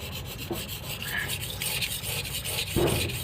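Steady scraping and rubbing of a knife blade stroked across a whetstone, continuous and close, with a heavier stroke near the end.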